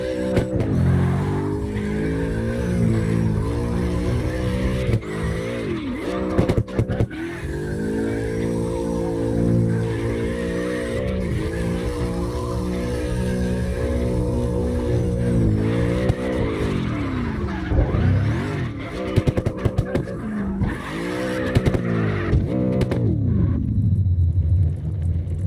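Cars styled after the movie Cars drift in CarX Drift Racing Online, with loud revving engines rising and falling in pitch and sustained tire squeal through long slides, near and continuous with no talking.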